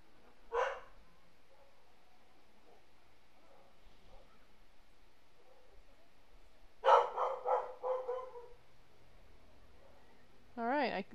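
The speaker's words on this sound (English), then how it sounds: "My dog is flipping a bit." A pet dog barks indoors at a mail carrier, a short yip early on, then a cluster of several loud barks in quick succession, and a whining yelp at the end, faint and off to the side with quiet stretches between.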